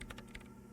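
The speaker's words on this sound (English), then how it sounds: "her hands typing hundreds of commands into the machine" Rapid keyboard typing from the video game Disco Elysium, as commands are entered into a machine. A quick, uneven run of soft clicking keystrokes sounds close, with no voices over it.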